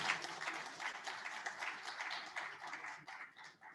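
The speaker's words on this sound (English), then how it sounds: "Shall we give them another round of applause?" An audience claps for panel members at a youth day event, a steady, dense patter of many hands with no breaks and a slight fade at the end.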